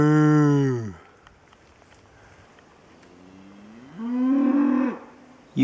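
Cattle lowing outdoors in the evening: a long, loud moo, then a quiet pause, then a second rising moo a few seconds later, with no talking.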